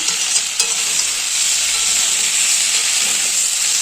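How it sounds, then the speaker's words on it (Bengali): Fried potatoes being stirred into jackfruit curry in a hot pan, giving a steady close sizzle and hiss with a few soft stirring scrapes near the start. "আর ভেজে রাখা আলুগুলো মিশিয়ে দিলাম"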